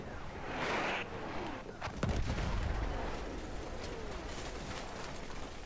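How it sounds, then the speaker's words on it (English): An enemy artillery barrage in Battlefield 1 gameplay booms out at a distance. A few heavy thuds, one sharper blast in the middle, then a rumbling, noisy battlefield backdrop. "Wait for the enemy artillery barrage to stop firing."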